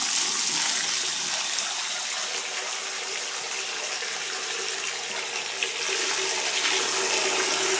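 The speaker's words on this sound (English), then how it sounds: "you can see how much water is being pushed out of the water heater" Water forced out of a side-inlet water heater through an opened valve, a loud, steady hissing gush that runs unbroken for several seconds with no voices.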